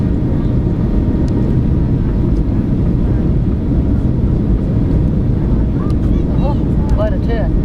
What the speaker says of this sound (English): Flaps are coming down.